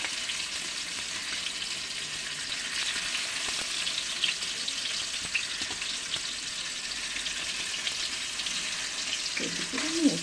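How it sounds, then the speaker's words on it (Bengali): Fish fries in a pan with a steady, close hiss of sizzling oil, broken by a few faint clinks and brief kitchen sounds. "এই দিকটাতে মাছটা ভেজে নেব"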